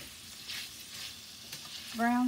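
Sausages browning in a skillet give a steady, close sizzle with soft stirring and scraping noises, growing louder and busier toward the end.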